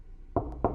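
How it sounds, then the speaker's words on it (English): Two firm knocks on a front door, close and distinct, spaced about a quarter second apart against a quiet background. "there was another knock at the front door"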